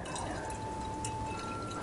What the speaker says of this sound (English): Okay, so we add the water in.